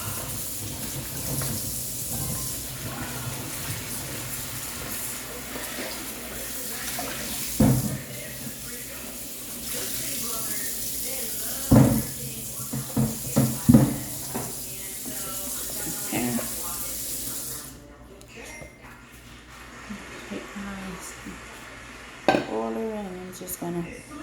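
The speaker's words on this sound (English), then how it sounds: "I still like to wash my potatoes after I peel them" Tap water runs steadily into a kitchen sink while freshly peeled homegrown potatoes are rinsed, with occasional clacks of pots and dishes and a few louder knocks; the flow stops near the end as someone speaks quietly nearby.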